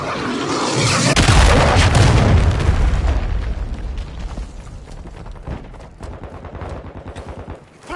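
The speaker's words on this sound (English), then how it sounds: "Also, cruise missile launch." A cruise missile launch and explosion in Call of Duty MW2 multiplayer, a loud booming blast that swells early and rumbles away, followed by scattered gunfire-like cracks.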